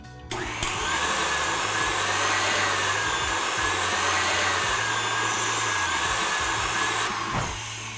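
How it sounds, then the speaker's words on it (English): An electric mixer whisks egg whites toward stiff peaks for macarons, a loud steady motor whine running almost continuously with slight shifts in pitch, starting abruptly and easing near the end. "So we're gonna keep whisking this until it has reached stiff peaks"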